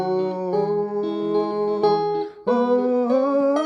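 Guitar plays the ooh section of a song, a sequence of plucked chords ringing into one another with a short gap before the last phrase. Close and clear, with no talk.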